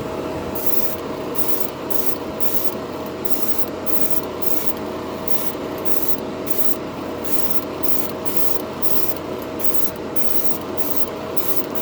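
A Harbor Freight airbrush sprays primer onto a spoon, a steady hiss running without a break under the rapid rhythmic pulsing of a small compressor, close and continuous with no voices.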